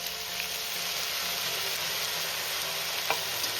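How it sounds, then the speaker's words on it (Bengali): Cauliflower and radish stems frying with spices and a splash of water from rinsing the spice-grinder jar, giving a steady dense sizzle with faint stirring scrapes throughout and a brief louder scrape near the end. "এবার আমি সব মশলার সাথে সবজিগুলো ভালো করে আমি কষিয়ে নেব"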